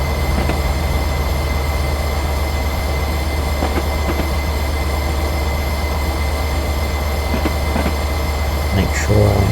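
A Royal Train railtour rolls along the main line under gravity, a loud, steady rumble of wheels on rails with faint clicks and a brief squeal near the end.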